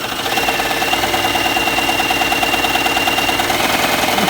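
A Tugi MK1919 overlock sewing machine runs continuously at steady speed, a loud, even mechanical whir and rapid stitching chatter close by, with no talking.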